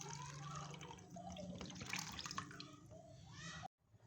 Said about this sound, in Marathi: मी इथे मटकी शिजवलेलंच पाणी घेत आहे, म्हणजे चवीला पण छान लागतं। पाणी ओतत आहे।